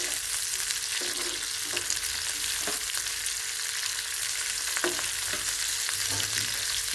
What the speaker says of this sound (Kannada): ಮಾವಿನಕಾಯಿ ಇದ್ರೊಳಗೆ ಹಾಕೊಂಡ್ಬಿಡೋಣ್ರಿ. ಸ್ವಲ್ಪನಾಗ ಫ್ರೈ ಮಾಡ್ಕೊಂಡು